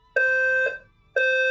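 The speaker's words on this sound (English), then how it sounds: "oh my god, fire alarm going off" A fire alarm sounds in a room, giving two loud, steady electronic tones, each about half a second long, separated by a short pause, with no talk over them.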